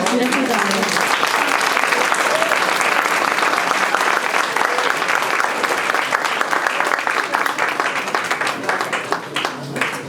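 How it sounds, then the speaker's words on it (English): Sustained audience applause for student presenters at a youth entrepreneurship competition, dense and steady clapping filling the room for ten seconds and thinning slightly near the end. "Let's give one last round of applause to our student presenters."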